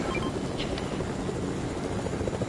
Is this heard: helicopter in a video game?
yes